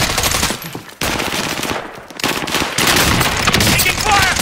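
Loud, close machine-gun fire in a first-person shooter video game, delivered in dense sustained bursts with one short break.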